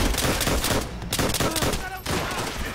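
Dense, loud automatic gunfire in Call of Duty: World at War, nearly constant shooting with brief dips.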